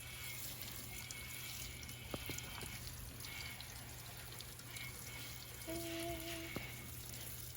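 Water poured generously onto potted succulent plants, a steady, faint trickling and splashing that continues throughout, with a brief tonal squeak and light knocks partway through.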